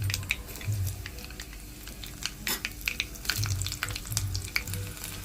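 Garlic cloves frying in hot oil with fenugreek and cumin seeds give a steady close sizzle, broken by scattered sharp crackles and pops and light clinks of stirring.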